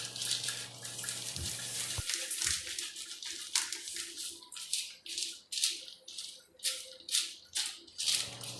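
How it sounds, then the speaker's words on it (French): Wood pellets shaken in a strainer to knock off dust make a dense, continuous rattle, then turn into a run of rhythmic, swishing bursts of grains tumbling against the mesh. "je mets un tout petit peu de pellet dans cette passoire et je secoue jusqu'à temps que j'ai plus tellement de poussière qui tombe"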